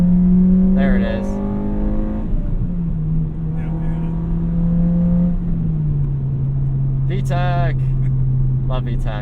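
A 2006 Acura RSX Type S engine revs hard from inside the car, its tone climbing then holding a steady drone before easing off, loud and close, with brief voices speaking over it.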